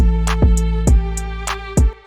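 A hanging 808 bass in an FL Studio beat, with each deep note sustaining and ringing out beneath repeated sharp hi-hat hits and a steady melodic tone, loud and close.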